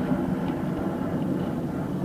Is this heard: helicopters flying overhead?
yes